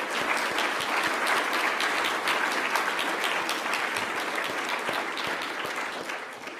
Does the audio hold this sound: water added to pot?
no